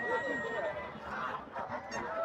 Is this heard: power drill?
no